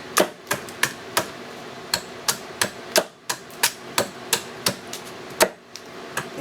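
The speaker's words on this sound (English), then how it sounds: "We're going to take an adze." Sharp, evenly spaced chopping strikes of a one-pound adze flattening firewood for a hand-carved bowl, about two per second, close and crisp with brief pauses.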